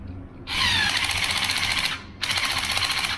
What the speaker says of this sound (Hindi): ये इसका स्लिप क्लच मोशन में आ जाता है और इसको घूमने नहीं देता ताकि आपका स्क्रू और होल खराब ना हो